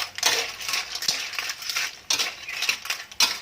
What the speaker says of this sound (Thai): คนทุกอย่างให้เข้ากันก่อนนะคะ